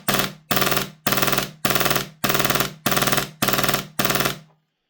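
A stock TAPP Airsoft hybrid HPA AAP-01 pistol running at 100 psi fires eight rapid full-auto bursts in a regular rhythm, loud and close, then falls silent.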